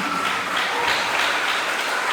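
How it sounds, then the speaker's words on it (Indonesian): An audience claps together at an anti-bullying seminar for school students, a steady dense patter of applause that carries on evenly with no voices over it. "tepuk tangan untuk kita semua"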